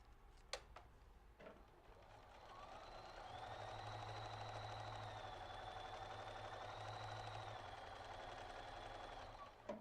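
A sewing machine stitches along a paper-pieced quilt block, a steady close mechanical whir running for several seconds between a few soft handling clicks, with no talking.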